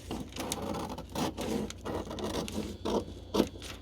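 Scissors cut through folded magazine paper along a crease, a series of soft, close crunching snips and scrapes in an uneven rhythm, quiet and with no talking.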